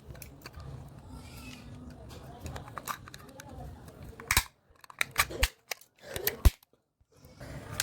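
A double-pole surge protector (SPD) for the phase and neutral lines has its plastic case forced open, giving a handful of sharp, close cracks and snaps in irregular bursts after a stretch of talking and handling noise.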